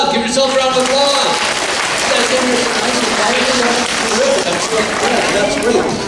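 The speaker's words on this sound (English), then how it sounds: "Give yourselves a round of applause." School children clap together at an assembly, a dense steady applause filling the room, with some voices and chatter mixed in underneath.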